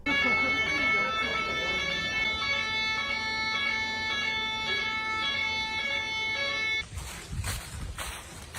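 A wailing ambulance siren on narrow Italian roads, a loud steady tonal wail with harmonic stacks holding for about seven seconds, then cutting off into noisy broadband bursts.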